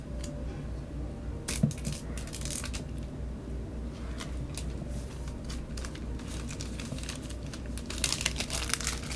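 Plastic wrap on an iPhone SE (2nd generation) box is torn open and peeled away, a close, steady crinkling and crackling with sharper tearing bursts near the start and end.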